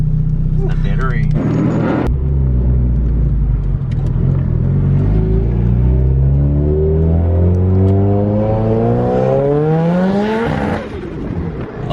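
An SR20-engined car with straight pipes revs hard and accelerates, a loud, close, raspy exhaust roar that climbs steadily in pitch through one long pull before easing off.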